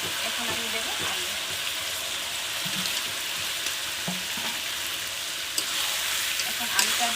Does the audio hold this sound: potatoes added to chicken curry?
yes